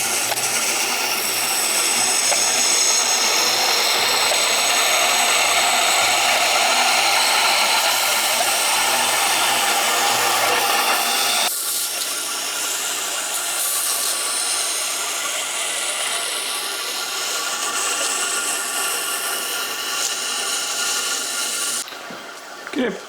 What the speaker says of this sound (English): I go ahead and set the edges here now on 600 grit